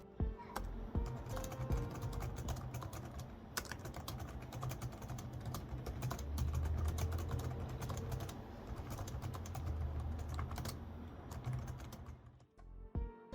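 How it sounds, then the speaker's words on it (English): Rapid, clicky typing on a Dell Inspiron N5110 laptop keyboard, close and continuous, with dense bursts of keystrokes and a few louder taps before stopping near the end. "The keyboard on this laptop is definitely a lot more on the clicky side"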